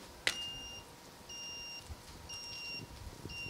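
A smart helmet's crash-alert buzzer sounds after a simulated fall, giving faint, high, evenly spaced electronic beeps in pairs of tones, preceded by a brief sharp click over quiet room noise.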